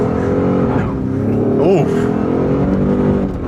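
A 2022 Ford F-150 pickup accelerates hard from a standstill in a 0 to 60 run, its engine roaring loud and close from inside the cab as revs climb and shift, with a brief exclamation from an occupant.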